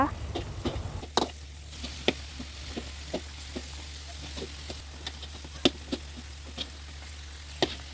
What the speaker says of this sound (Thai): เมื่อแบบเกลียวเย็นตัวลง เราก็นำมาทอดรอบสองได้เลยค่ะ